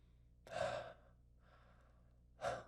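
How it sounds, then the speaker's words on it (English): Two slow deep breaths, each a close, breathy rush of air with a softer exhale between them, separated by quiet pauses. "pause and take a few deep breaths"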